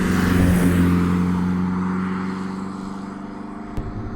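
An Audi 80 B2 engine fitted with Weber twin carburettors idles close by, a loud, rough, steady rumble that eases slightly toward the end, with one brief click and no talking.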